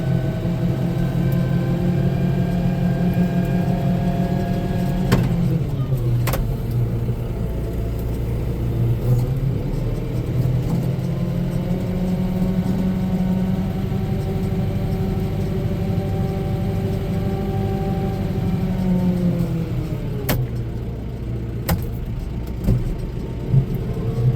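A tractor pulls a Frontier LP1208 land plane to grade a dusty road surfaced with screened asphalt. The engine drones steadily and loudly throughout, and its pitch dips and recovers twice as the load changes. No one talks.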